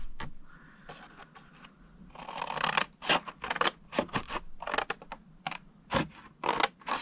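Scissors cut through cardstock along a score line, giving a string of crisp, close snipping and scraping bursts with short pauses between them, in a quiet room with no talking.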